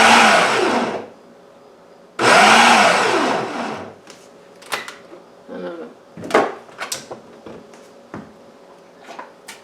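A food processor on its chop setting whirs through peaches in two loud pulses of about a second each. Clattering handling and knocks of the bowl and lid follow, close up.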